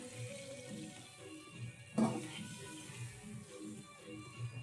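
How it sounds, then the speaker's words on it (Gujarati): Water poured from a vessel into cooked spice masala in a pan while making stuffed brinjal at home, a brief splashing gush that is fairly soft and stands alone without talk. "આપણો મસાલો થઈ ગયો છે, તો આમાં પાણી નાખી દઈશું."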